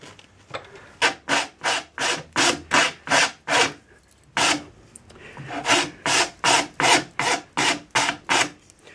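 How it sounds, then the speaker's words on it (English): A rasp files steadily at a horn nock on a yew English longbow, about twenty close, evenly paced rough strokes with a brief pause near the middle, no voices. "Rasp to the mark again."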